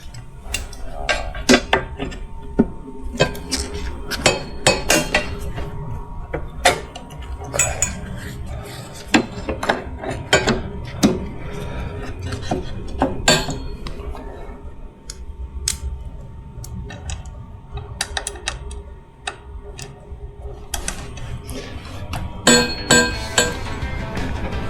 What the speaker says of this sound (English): Might just slip the brake pedal on.